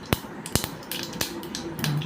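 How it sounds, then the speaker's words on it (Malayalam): Mustard seeds pop in a hot pan while Kerala-style chana masala is being cooked: a few sharp, quiet pops scattered over low background hiss, with no talking. "കടുകും കൂടി ഇട്ട് ഇതൊന്ന് പൊട്ടി വരട്ടെ"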